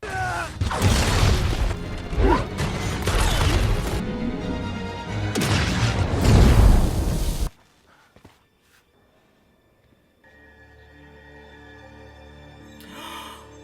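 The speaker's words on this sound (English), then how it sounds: "And the sound the rings make is even really cool." Loud, crackling magical weapon bursts with booming impacts and shattering texture for about seven seconds, then a sudden drop to near silence and a faint low hum.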